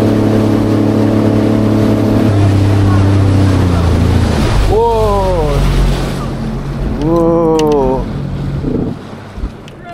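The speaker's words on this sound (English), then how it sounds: "we're just gonna be breaking in the engines" A 2024 Sea-Doo FishPro personal watercraft being broken in gives a loud, steady engine drone with harmonic tones, then two rising-and-falling whines as the motor revs up, over rushing wind noise.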